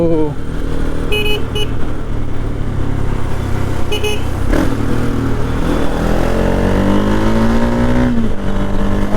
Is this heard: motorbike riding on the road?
yes